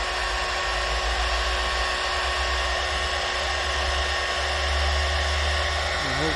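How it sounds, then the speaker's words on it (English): A small craft heat gun blows steadily while melting heat shrink tubing, giving a loud, constant broadband whoosh and motor whine that holds unchanged from start to finish. "Hopefully it's hot enough to melt them. This is just a craft gun."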